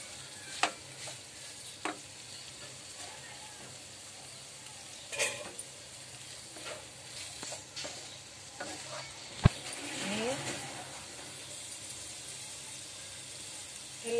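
Turmeric being stirred into a sambar tempering with drumstick pods: a soft steady sizzle of frying underneath, with occasional scraping stirs and light clinks of a spoon against the pan.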